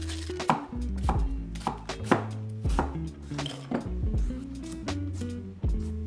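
A kitchen knife chopping garlic and onions on a cutting board for saag, quick uneven runs of sharp, close taps and thuds with short pauses, alone without any talk.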